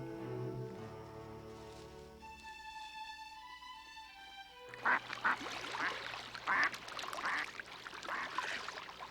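Mallard ducks gathered in a breeding-season flock, a burst of loud raspy quacks rising over a wet, splashing background after a stretch of tonal calls, close and busy with several birds at once.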